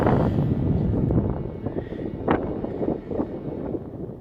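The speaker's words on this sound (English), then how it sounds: "Really nice wind breeze coming over." Wind gusts over open fells in Northumberland's Kielder Forest, buffeting the microphone with a loud, continuous low rumble that swells and eases, with no voices.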